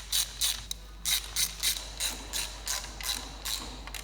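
A hand ratchet clicks in repeated rapid bursts while bolts are driven in on a custom Mk2 Escort gearbox build, a regular rhythm of about a dozen strokes, close and clear with no talking.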